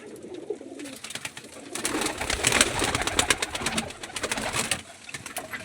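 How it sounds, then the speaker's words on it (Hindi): Desi pigeons coo in a loft, soft repeated throaty calls overlapping with scattered flapping and bird noise, fairly close and moderate in volume. "वो ये कबूतर कुछ देसी कबूतर है"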